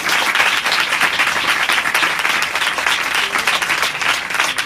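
Loud, dense applause from a church congregation during an Urdu-Hindi sermon, many hands clapping continuously and close up with no break.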